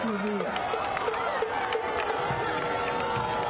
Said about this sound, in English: And the Revere crowd is not happy with that call.